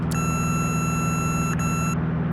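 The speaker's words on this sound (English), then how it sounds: "So you can hear some alarms go off in a minute" A steady electronic cockpit alarm tone in the X-Plane 11 flight simulator sounds continuously over a low aircraft engine drone, holding for about two seconds before cutting off.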